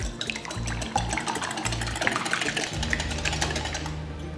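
Raw eggs with a little salt and pepper are beaten hard in a bowl, giving a steady stream of quick, close tapping and sloshing strokes that fill the whole stretch without pause.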